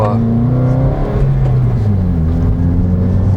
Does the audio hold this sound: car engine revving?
yes